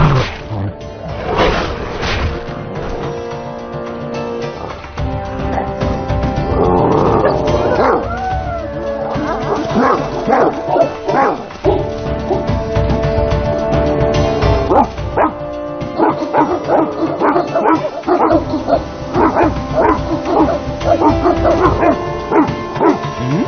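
A Tibetan mastiff in an animated film barks loudly and repeatedly over a busy soundtrack, mixing deep barks with yips, howls and whimpers across a long stretch.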